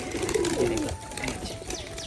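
Pigeons gathering to drink water coo softly nearby in a low, warbling murmur, with faint chirps and general flock rustle in the background.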